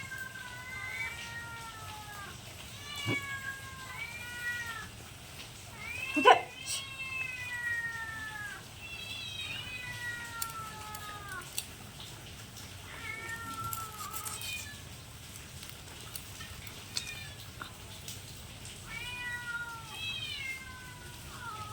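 Repeated cat meows, high and drawn-out, sounding several times across the clip with short pauses between, moderately close against a quiet background.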